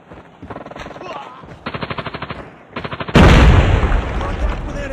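Rapid machine-gun bursts rattle in a video game firefight, then a frag grenade detonates with a loud broadband blast that rolls into sustained rumbling gunfire.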